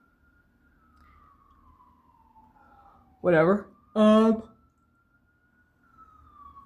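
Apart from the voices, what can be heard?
sirens outside window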